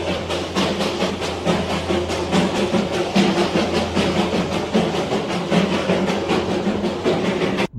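The Darjeeling toy train runs near Batasia Loop in the hills, its wagons rattling and clacking in a steady rhythm, close and continuous with a low engine rumble beneath, no voices.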